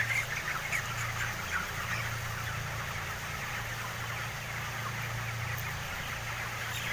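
Chickens being fed, with dense, steady farmyard clucking and bird calls spread throughout, joined by a continuous low mechanical hum underneath.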